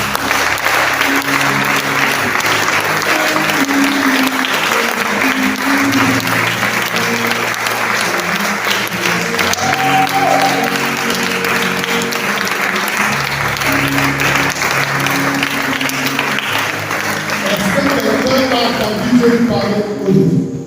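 Applause from a church congregation fills a worship service, a steady, dense clapping that runs unbroken for about twenty seconds, with voices carrying over and through it.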